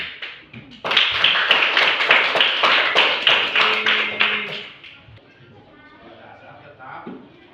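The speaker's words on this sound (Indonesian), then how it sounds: "Tepuk dulu." A classroom group claps together in a dense, steady burst of hand claps lasting several seconds, then stops abruptly, leaving quieter room sound and faint voices.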